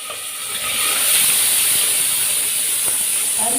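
A pressure cooker holding chicken gravy lets out a loud, steady steam hiss and whistle that lasts several seconds, close by in a home kitchen.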